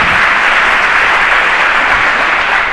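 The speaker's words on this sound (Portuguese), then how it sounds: "Uma salva de palmas para esse grupo maravilhoso." Steady, loud clapping from an assembly audience, applauding a worship group, a dense wash of hands that holds at an even level throughout with no voices on top.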